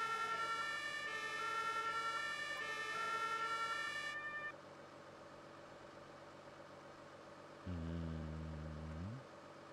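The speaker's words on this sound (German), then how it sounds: "man kann das E-Horn nur anmachen, wenn das Martinshorn an ist" German emergency vehicle siren (Martinshorn) in the Notruf 112 video game during a tree-sawing call-out with a turntable ladder truck: a loud alternating two-tone wail that cuts off, then a short lower horn blast over engine rumble.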